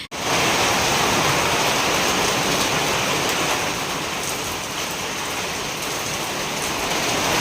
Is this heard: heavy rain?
yes